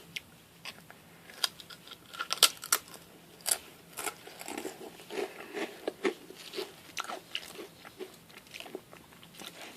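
Close, crisp crunching and chewing of a crunchy, mildly hot-spicy Sun chip snack, irregular bites and munches over a quiet background.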